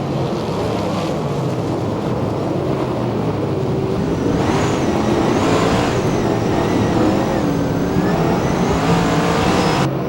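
USAC and CRA sprint cars racing around the Perris oval, a continuous loud roar of several engines with rising and falling pitch as cars sweep past, dense and unbroken.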